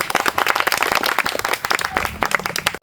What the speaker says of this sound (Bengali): তো আজকে ভাইটি জিতেছে, তার জন্য জোরে হাততালি।